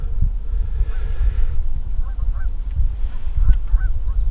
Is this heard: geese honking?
yes